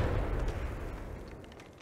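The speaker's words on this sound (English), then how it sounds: "Grenade!" A grenade explosion in Apex Legends: a heavy, booming blast with a deep low-end thump that rolls out and slowly fades over about two seconds.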